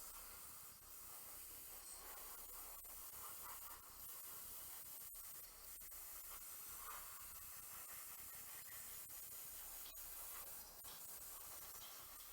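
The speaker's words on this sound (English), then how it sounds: "And this we're going to spray kind of from the top here." Aerosol spray paint hissing steadily onto a hobby model for a 40k shadowbox, a continuous close broadband spray with a few brief pauses.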